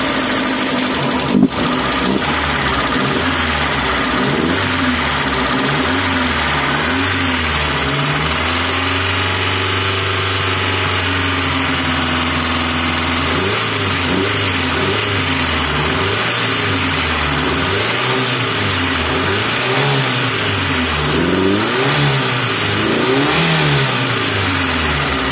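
A Mitsubishi Colt SS engine runs loud and close, holding a steady idle before rising and falling through repeated high-RPM revs, its pitch swooping up and down in waves under a continuous mechanical hum.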